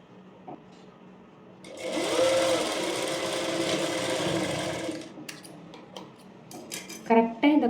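A sewing machine stitching the side seam of a dart blouse: one continuous close whirring run of about three seconds, followed by scattered clicks and light handling noises as the fabric is adjusted.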